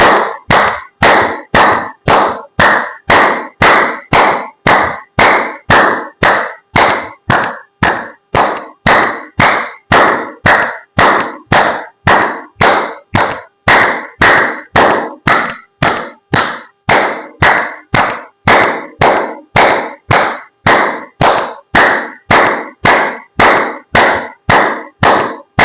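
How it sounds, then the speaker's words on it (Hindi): Steady rhythmic hand clapping at an exercise and yoga session, dozens of sharp, loud, evenly spaced claps in a continuous run with no talk. "ताली बजाएं।"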